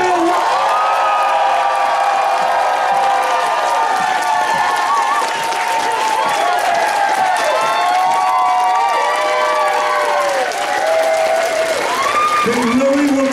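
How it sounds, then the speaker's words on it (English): A large convention crowd at a furry-convention closing ceremony loudly claps, cheers and whoops for the hotel, a sustained roaring mix of applause and high shouts with some voices calling out above it. "let's give the hotel a huge round of applause that they can hear on the count of 3"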